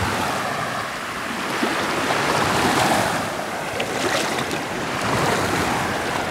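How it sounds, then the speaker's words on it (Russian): Small sea waves wash against the shore of the Sea of Azov in gentle, continuous surges, swelling and easing over steady wind noise, with no one speaking. "Не полный штиль, видите, маленькие волны есть."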